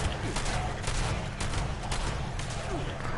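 Shotgun blasts hit ghouls in Fallout 76, a dense, continuous barrage of loud gunfire with overlapping shots, heard without pause from start to finish.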